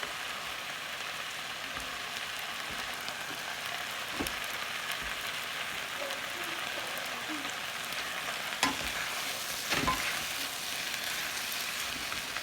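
Ramen noodles stir-fry in a reducing sauce in a Lao-style dish, a soft continuous sizzle with occasional scraping and stirring knocks, fairly quiet and steady with no talk.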